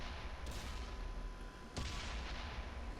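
A tank cannon fires in World of Tanks, two sharp broadband blasts about a second apart over constant loud battle noise.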